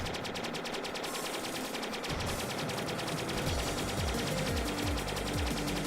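Rapid automatic weapon fire in the 2018 shooter game Stellar Interface, a dense, loud, continuous stream of shots layered over a driving game soundtrack for about six seconds.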